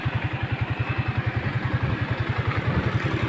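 A motorcycle engine runs close by with a rapid, even chugging pulse, steady and moderately loud throughout the short stretch, with no voices.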